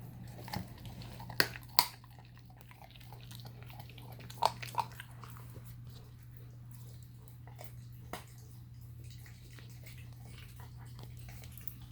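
A 10-week-old puppy chews and crunches raw chicken wings in a quiet room, with sporadic sharp bites and crunches over a low steady hum and no talking.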